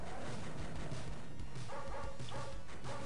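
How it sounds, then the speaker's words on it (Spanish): Several dogs barking repeatedly amid dense, noisy background sound, the barks overlapping in a steady busy stream, in the video game NARC. "No quiero escuchar esos perros buenos ladrando todo el rato."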